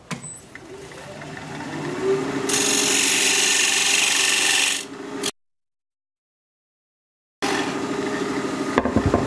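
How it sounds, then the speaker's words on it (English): A diamond point tool cuts the sides of a wooden tenon on a spinning lathe, turning a natural edge bowl. A steady, loud scraping hiss runs for several seconds under the motor hum, then drops to silence before the lathe sound resumes. "Now I'm just going to take this diamond point tool and square up the sides of the tenon."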